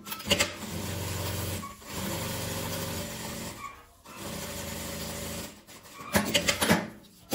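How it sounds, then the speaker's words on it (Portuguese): A sewing machine stitching a strip of fabric scraps and satin ribbon for a bottle holder, running in steady whirring bursts with short pauses between seams and a faster rattling run near the end. "E eu vou pregar ela, vou costurar ela"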